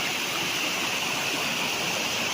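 Spring water flows on a farm lot in Lucban, Quezon, as a steady, loud, close rushing and babbling stream with no pauses and no voices.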